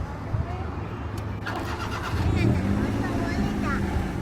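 A car engine cranks and catches about midway, then settles into a steady low idle, with a voice talking over the start.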